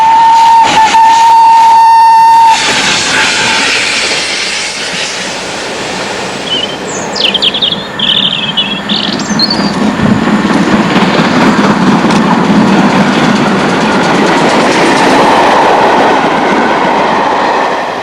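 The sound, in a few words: steam locomotive 460 Burton Agnes Hall hauling train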